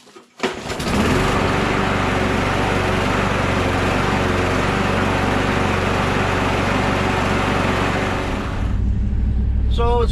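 Troy-Bilt Gardenway MTD wood chipper leaf vacuum engine catching and running at a steady loud roar for about eight seconds, close by, then dropping away near the end.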